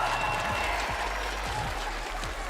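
A crowd at a Fortnite FNCS Invitational event applauds and cheers in a dense, steady wash of clapping and noise that holds evenly throughout, with a low rumble underneath.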